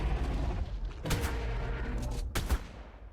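Gunfire in the video game Ark aimed at an Acrocanthosaurus during taming, heard as a steady stream of shots with two sharper bursts standing out near the end, fairly close and moderately loud.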